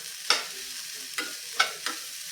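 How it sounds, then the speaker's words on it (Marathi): A mashed green pea filling being sautéed in a pan over medium heat until dry, with soft continuous frying and four distinct scraping stirs of a spatula, and no voices. "हे सुद्धा आता एकजीव करून घेऊया आणि छानपैकी असं सुक सुक होईपर्यंत ना परतून घ्यायचं"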